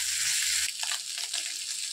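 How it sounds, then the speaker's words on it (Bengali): Tengra fish frying in a pan, a steady bright sizzle that carries throughout, with some stirring and scraping after a low rumble drops away. "মাছখিনি ভাজি হৈ গ'ল"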